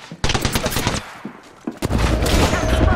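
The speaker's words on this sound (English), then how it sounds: "Getting shot at." Bursts of rapid automatic gunfire in a Call of Duty-style shooter, a loud rattling volley, brief pauses with scattered single shots, then another dense sustained burst close up.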